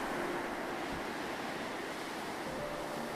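Steady wash of ocean surf on Kenya's Indian Ocean coastline, a continuous broadband rush at moderate level with no distinct breaking-wave peaks and no voices.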